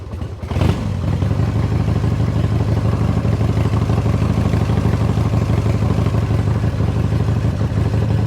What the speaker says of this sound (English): hit the starter, boom, she goes. Down to idle.